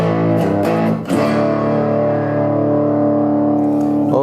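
Sustained electric guitar chords from an Enya NEXG smart guitar, heavily distorted with trailing delay repeats, ringing loud and steady after a brief pick attack.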